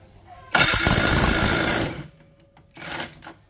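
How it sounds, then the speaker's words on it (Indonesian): A Tekiro cordless brushless impact driver hammers loose a bolt torqued to 300 Nm, giving one loud, rattling burst of about a second and a half, then a shorter second burst after a brief pause, close by. "300 Nm kebuka menggunakan impact driver saja."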